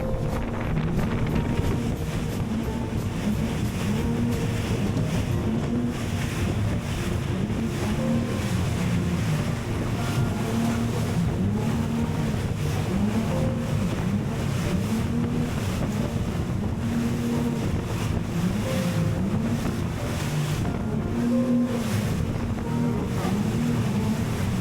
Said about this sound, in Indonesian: Jadi ombaknya kenceng banget.